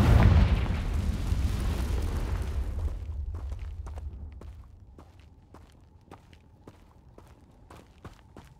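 A Confringo fire spell explodes in the Hogwarts Legacy video game: a loud, deep burst that rumbles and fades over about three seconds, followed by a series of sharp, evenly spaced footstep-like ticks.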